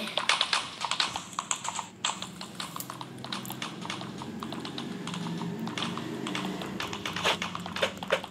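Horse hooves clip-clop in the Ertugrul Ghazi video game, a run of quick sharp taps that starts loud, briefly thins, then settles into a steady trotting rhythm over a low background hum.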